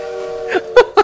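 A Gaga bird in the video game Little Witch in the Woods imitates a train, holding a steady whistle-like tone and then giving three short, louder bursts.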